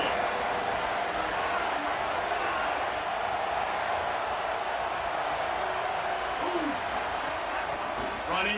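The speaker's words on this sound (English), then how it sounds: "This crowd ready to make its presence known" A stadium crowd in a college football video game keeps up a steady dense roar, a continuous wash of noise with faint shouts rising here and there, and commentary talk running through it.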